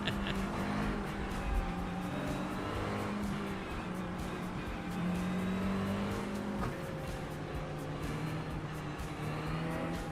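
A race car engine in the sim racing game iRacing drones continuously, its pitch rising and falling with revs and shifts and some tire noise, steady and fairly loud with no talk over it.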